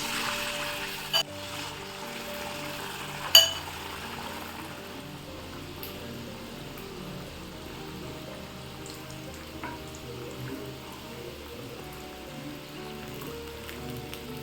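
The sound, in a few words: sukhiyan dumplings dipped in batter, frying in hot oil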